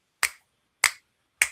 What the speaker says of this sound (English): You snap your fingers.